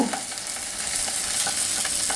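Ground spices being stirred and fried in a pan, giving a steady, close sizzle with soft scraping from the stirring throughout, and no talking.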